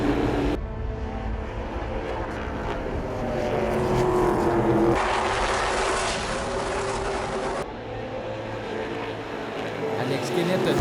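NASCAR Pinty's stock cars roaring past on a race track, loud engine noise rising and falling with abrupt shifts in level, heard together with a commentator speaking over it.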